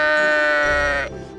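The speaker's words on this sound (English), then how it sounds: "the local sheep" A single sheep on a mountain trail in the Blackstairs Mountains gives one long, clear, wavering bleat that fades near the end, close and loud with no talk.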